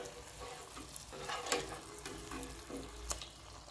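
Adhirasam, a Tamil sweet, frying in oil with a little oil spooned over the top, making a soft, steady sizzle with a couple of sharp pops near the end and no speech.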